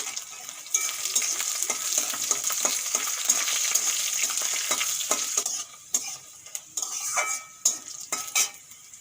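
Garlic and dried red chilli fry in a pan with a steady, close sizzle under scraping strokes of a stirring spoon. The sizzle eases partway through, leaving a run of distinct scrapes and taps.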